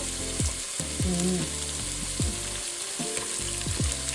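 Two finely chopped onions fry in hot oil in a pan for a Sri Lankan chicken curry, giving a loud, constant sizzle broken by repeated scraping strokes of a spoon stirring them, with no voices.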